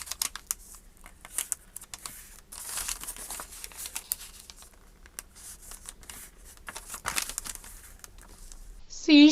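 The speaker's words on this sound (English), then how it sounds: "fold your piece of paper over and start folding back along all 4 sides" A sheet of paper is folded over and creased back along its sides, giving close, intermittent crinkling and scraping rustles with brief pauses between strokes.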